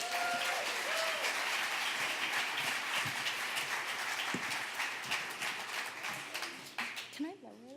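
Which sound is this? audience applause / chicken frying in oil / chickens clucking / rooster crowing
audience applause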